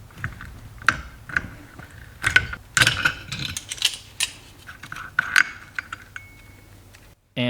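Ratchet work on the clutch basket nut of a Kawasaki KX125 two-stroke engine held with a holder tool: a run of close, sharp metallic clicks and clanks in irregular bursts, loud and alone, ending in a brief louder rattle.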